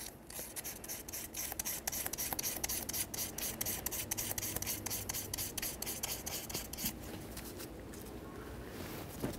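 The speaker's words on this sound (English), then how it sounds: "Go ahead and give it a quick sanding with some sandpaper" Sandpaper rubs quickly back and forth over a fuel injector mounting surface on a 2003-2007 Honda Accord, giving a fast, even, close rasping scrape.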